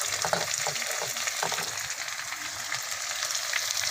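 Chopped onion sizzles in a hot pan alongside capsicum for Chinese chicken manchurian, a steady crackling fry close by, punctuated by a few scraping stirs early on.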